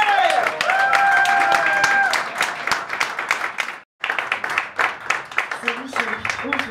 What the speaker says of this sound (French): vous pouvez l'applaudir tout de suite et maintenant